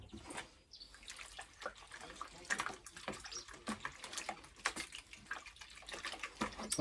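Fish chunks stirred together with dechlorinated water into a slurry for fish hydrolysate, giving irregular sloshing and splashing bursts that continue throughout, with a voice talking faintly underneath.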